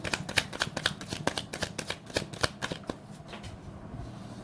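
Tarot cards being shuffled by hand, a rapid, close run of crisp riffling flicks and slaps that goes on steadily, with no talk.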